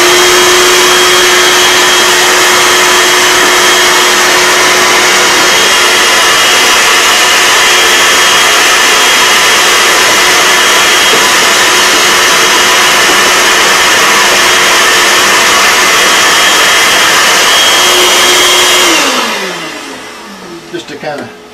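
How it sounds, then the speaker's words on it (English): A shop vacuum roars steadily alongside a router, a loud continuous high-pitched whine and rush that holds for most of the stretch before both wind down to near silence at the end. "turn on my vacuum again"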